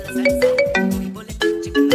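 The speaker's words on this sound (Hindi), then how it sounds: "अरे यार इसका फोन आ गया" A mobile phone ringtone for an incoming call plays loud and close, a bright repeating melodic pattern of short tonal notes cycling about every half second.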